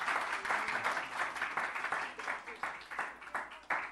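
Church congregation clapping hands during a Spanish-language youth service sermon, a steady rhythmic run of claps through the whole stretch with voices talking over it.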